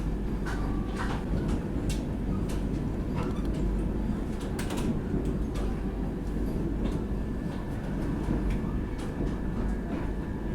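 A Vande Bharat Express train pulls into Ara Junction, giving a steady, continuous rumble with light rail clatter throughout and faint voices in the background.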